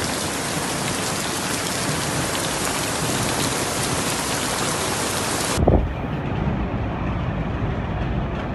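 Torrential rain pours during severe storms in the Emilia-Romagna region of Italy, a dense, loud, steady roar that cuts off abruptly near the end, leaving a quieter rumbling wash.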